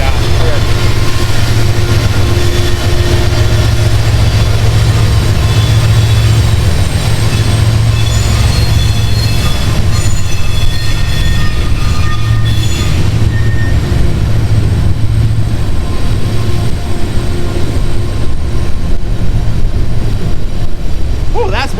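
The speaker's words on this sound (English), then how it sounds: "That train is so Yeah, it gets real loud." A loud train rumbles steadily past close by for the whole stretch, with wheel and engine noise filling everything while people talk over it.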